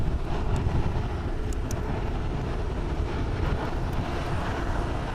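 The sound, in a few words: ITA Airways airliner at Haneda Airport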